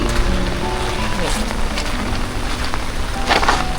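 Rain pouring steadily onto a flooded campsite, a dense, close hiss with scattered heavier drops and splashes, unbroken for the whole stretch.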